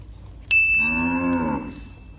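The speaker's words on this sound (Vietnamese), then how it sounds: "đây là những con bê con" Cattle and calves on a breeding farm give one long, loud moo with a rising and falling tone. A sharp bell-like ding comes just before it, and a faint rural background hums underneath.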